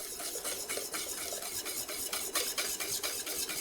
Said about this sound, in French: on fait bien attention de bien mélanger au fur et à mesure qu'on verse